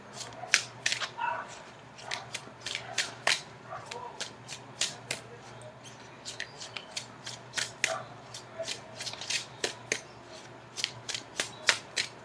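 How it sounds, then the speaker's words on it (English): Tarot cards being shuffled and cut during a Virgo reading, a steady run of crisp, close riffling snaps and flicks that keeps going the whole time over a low background hum. "I'm going to cut the cards."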